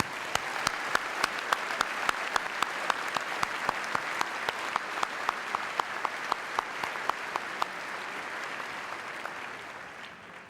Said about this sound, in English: now I'll have a round of applause for the entire group